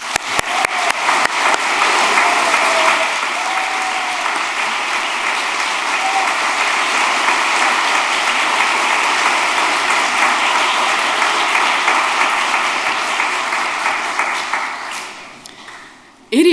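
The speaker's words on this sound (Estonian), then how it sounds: "Ma paluksin aplausi kõikidele tänastele lõpetajatele." Sustained applause from the audience at a college graduation ceremony, greeting the 97 graduates of the Estonian IT College; dense, steady clapping fills the hall for about fifteen seconds, then fades out.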